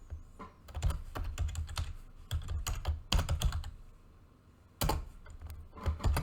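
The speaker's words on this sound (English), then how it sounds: "So we're going to type in the variable up here." Fingers tap on a computer keyboard while writing Python code, producing quick, irregular clusters of close keystrokes broken by brief pauses.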